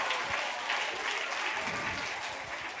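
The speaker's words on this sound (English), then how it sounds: "we'll give Radhika a round of applause and we'll send her back" A room full of people gives a round of applause, steady dense clapping that carries on evenly for the whole stretch without voices over it.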